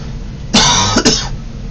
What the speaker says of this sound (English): A little bit of a dry cough